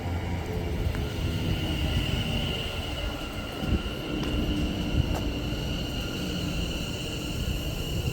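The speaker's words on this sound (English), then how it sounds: "Meanwhile, we're passing now an LNWR 350." A London Northwestern Railway Class 350 electric train passes at Berkhamsted, a continuous rumble of wheels on rail with high steady tonal whines and faint squeals, sustained at even loudness.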